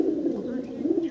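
A single pati bondho dum pigeon coos in low, rolling, repeated bursts, close and fairly loud.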